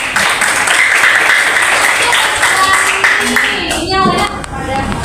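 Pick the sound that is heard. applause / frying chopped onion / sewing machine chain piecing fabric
applause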